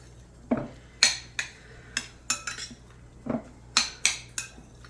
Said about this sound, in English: let's make sure that all the egg is well combined